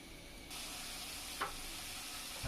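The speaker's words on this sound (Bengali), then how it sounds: "মশলাটা ভালোভাবে একটু কষিয়ে নিব।" Masala spice paste for hilsa fish curry sizzles steadily in a pan, a constant close frying hiss broken by one brief stirring scrape midway.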